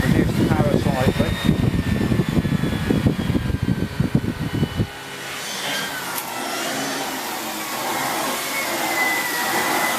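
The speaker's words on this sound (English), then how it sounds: "So I'm going to turn it on, reduce the power slightly." A Dyson cordless stick vacuum with a turbo brush runs on lino. It starts loud and whirring with rough pulsing, then drops abruptly to a smoother, quieter steady hiss for the second half.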